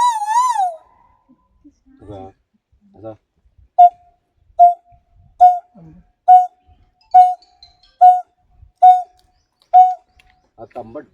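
A person imitates the coppersmith barbet call: after a brief spoken intro, nine evenly spaced hollow 'tuk' notes repeat close and clear in a steady rhythm against near silence.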